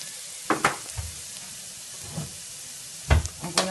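Chopped kale frying and being stirred in a pan: a soft sizzle underneath, broken by several brief scraping stirs, heaviest toward the end.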